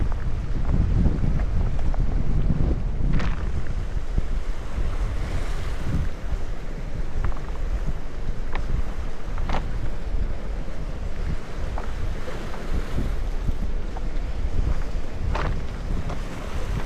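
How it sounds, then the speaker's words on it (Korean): Steady roar of ocean surf breaking continuously on a rocky Jeju Island coast, mixed with gusty wind buffeting the microphone, loud and constant throughout with no voices. "잠시 서서 맑은 바다와 파도 소리를 들으면 완벽합니다"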